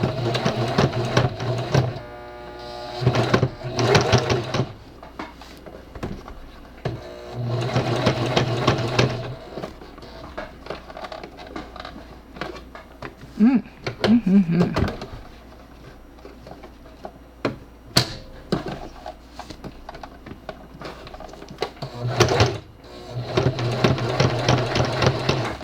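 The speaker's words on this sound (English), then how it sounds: "Now I'm gonna try and sew it back together." A sewing machine stitches a handmade FNAF Spring Bonnie fuggler plush toy in bursts of steady rapid whirring, starting and stopping several times with quieter handling sounds between runs.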